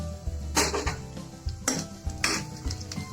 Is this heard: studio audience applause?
no